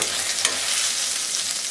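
Coconut, ginger, tomato, cardamom, cinnamon and bay leaf frying in a little oil, a close, dense hissing sizzle with faint scraping of a stirring spoon, brief and continuous with no talking.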